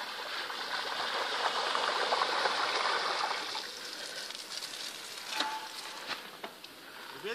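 Mountain bikes splash through a stream, with rushing, spattering water loud at first and then settling into softer trickling and patter, outdoors and close by.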